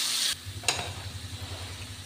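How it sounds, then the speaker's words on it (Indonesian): Spice paste frying in used cooking oil in a pan, a steady close sizzle with a brief louder crackle near the start, alongside a low hum and no talking. "Dan di sini aku masih pakai minyak bekas untuk menggoreng si bumbunya tadi."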